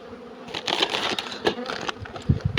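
Honey bees buzzing around an opened hive of corpus-style boxes during a spring inspection, a close, steady insect hum with scattered knocks and handling clicks.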